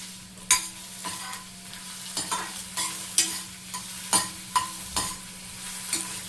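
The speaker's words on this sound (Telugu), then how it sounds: "అల్లం యాడ్ చేసిన తర్వాత కలపండి బాగా." A vegetable filling with ginger being stirred in a pan for homemade veg puffs, the spoon scraping the pan in a steady rhythm of sharp strokes about once a second over a low, constant sizzle of frying.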